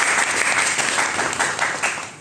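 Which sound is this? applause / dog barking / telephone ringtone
applause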